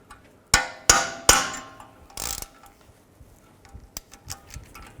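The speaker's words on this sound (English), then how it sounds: "Use a socket and just hammer it up there." Three sharp metallic strikes in quick succession as a socket is hammered onto a front lower ball joint of a BMW X3, then a longer scraping clang and a few lighter taps, close by with no talking.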